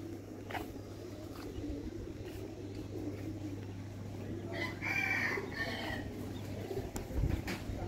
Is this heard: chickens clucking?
yes